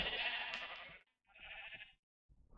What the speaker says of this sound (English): I'll gather up all of these sheep into the pen